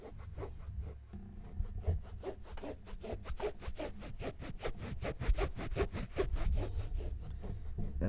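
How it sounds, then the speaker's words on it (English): Rhythmic scratching and rubbing against clothing by a person, a fast series of dry rasping strokes, close and fairly quiet, with no talk. "That's me scratching my balls."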